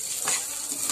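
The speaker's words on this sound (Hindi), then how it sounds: "इसको तब तक भूनेंगे जब तक ये खुशबू ना आ जाए दलिया की" Broken wheat stirred and roasting in ghee in a pan, a soft steady sizzle with faint scraping of the spoon, close and continuous.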